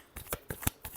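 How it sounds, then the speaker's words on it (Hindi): Playing cards being shuffled for a tarot reading, with several quick riffling bursts close up and no voice over them. "Last shuffle."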